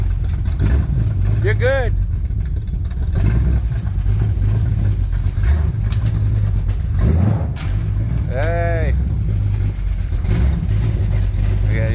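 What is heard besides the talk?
truck engine cold start, idling and revving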